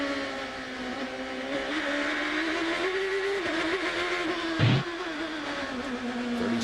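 Onboard engine of Forsythe's number 3 Champ Car racing through the Houston chicane toward turn 2 in 2006, a loud steady high-revving drone with a brief dip and shift near the end, no talk.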